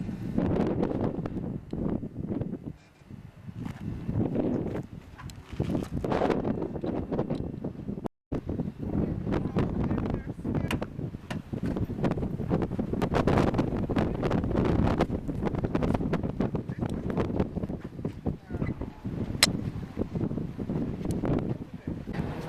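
Strong wind buffets the microphone outdoors in West Africa, producing continuous low rumbling gusts that swell and fade, with brief dropouts.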